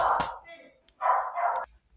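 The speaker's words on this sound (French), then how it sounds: "mon chien qui s'est mis à aboyer comme un fou" A pet dog barks loudly indoors in two sharp, close bursts with a brief pause between them.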